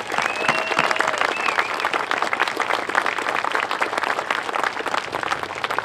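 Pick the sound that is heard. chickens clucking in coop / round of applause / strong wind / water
round of applause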